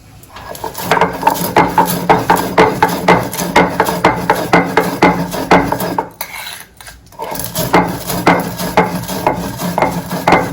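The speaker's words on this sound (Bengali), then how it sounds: "আর ভাজা মশলাটাকে আমি শিলে গুঁড়ো করে নিচ্ছি।" Roasted spices are ground on a stone slab shil, giving a rhythmic scraping and rubbing of stone on stone in repeated strokes, with a short pause partway through.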